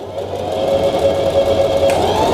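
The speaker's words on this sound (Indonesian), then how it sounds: "Kemudian nah kita jalankan, maka nanti apa yang terjadi, ini jahitannya seperti jahitan lurus biasa." A Singer Heavy Duty 4432 sewing machine runs a straight stitch with a loud, steady, close motor whir and rapid needle hum that lasts the whole stretch.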